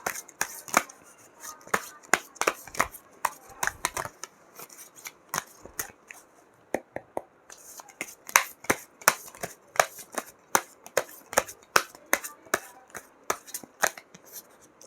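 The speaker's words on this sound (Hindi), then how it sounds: "ओके कार्ड शफल कर लेते हैं।" Tarot cards being shuffled by hand, a steady run of sharp riffling snaps and flicks repeating in quick bursts for the whole stretch, close and crisp with no talking.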